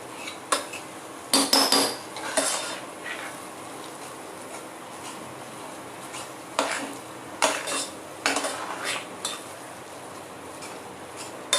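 Paneer is mashed together with halwa in a pan, giving irregular scraping and clinking bursts of a utensil against metal, with quiet gaps between the strokes and no talking.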